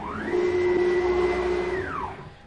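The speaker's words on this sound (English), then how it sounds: "the machine moves over to this corner" A CNC router gantry travels to the corner of its bed. Its stepper motors give a close, steady tonal whine that ramps up in pitch, holds for over a second and then winds down as the move ends.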